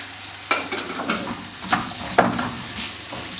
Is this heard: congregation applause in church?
no